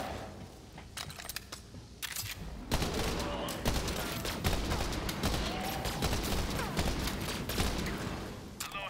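Rapid bursts of gunfire crackle through a Borderlands 3 firefight, with dense, near-continuous shots, metallic clinks and explosions mixed into game sounds, fairly loud throughout.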